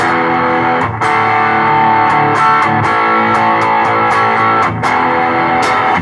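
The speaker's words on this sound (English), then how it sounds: "Maybe punch up your distortion, get a little bit more scoop sound, so you get this" Electric guitar played through a Digitech Hotrod distortion pedal with a scooped midrange, loud and sustained chords ringing continuously with brief pick attacks and small gaps between strums.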